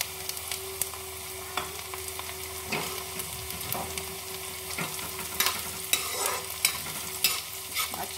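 Chopped green chili and garlic sizzling and sautéing in hot oil for potato bharta, a constant frying hiss broken by repeated scraping stirs of a spoon in the pan.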